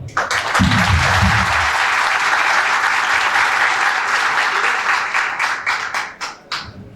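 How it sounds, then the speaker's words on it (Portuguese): A round of applause from an agricultural seminar audience, full and continuous at first, then thinning into scattered individual claps before fading out; a brief low voice is heard near the start. "eu queria pedir uma salva de palmas para vocês"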